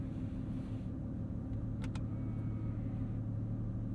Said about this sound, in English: You can hear those fans go to cool down the 4-liter flat 6.